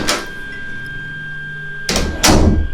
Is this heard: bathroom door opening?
yes